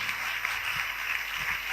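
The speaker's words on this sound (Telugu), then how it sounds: "చప్పట్లు కొట్టి దేవుని మహిమపరచండి" A church congregation applauding, a dense wash of clapping hands sustained at moderate level for the whole moment.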